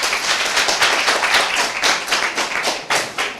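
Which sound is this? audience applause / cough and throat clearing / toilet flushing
audience applause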